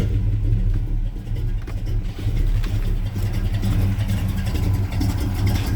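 A Chevy C10 pickup truck's engine running cold after starting, a steady, loud, low rumbling idle with a slight uneven pulse and no talk over it.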